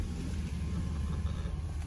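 Wind blowing outdoors at a vaccination site in Los Angeles, a steady rushing buffeting on the microphone with a low rumble throughout, no voices.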